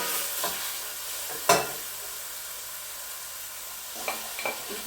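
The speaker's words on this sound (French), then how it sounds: "je vais tout mélanger" Veal and flour being stirred together in a pot, a soft steady scraping with a light sizzle beneath, one sharp knock of the spoon against the pot and a few small clinks toward the end.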